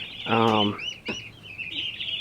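Young turkeys in a farm brooder give high, thin peeping calls near and continuous, with one louder harsh squawk rising over the steady chorus.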